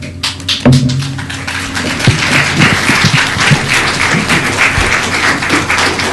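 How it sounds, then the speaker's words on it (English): A meeting audience breaks into loud, sustained applause, dense clapping that holds steady for several seconds with a few thumps and taps mixed in. "the clapping and everything is wonderful about your passion"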